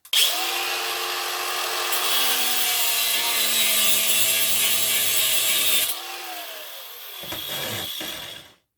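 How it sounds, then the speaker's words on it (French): An angle grinder cuts through copper with a loud, steady high-pitched whine and grinding rasp for about six seconds, then the motor spins down and rattles briefly before stopping. "On va donner un petit coup de meuleuse ici."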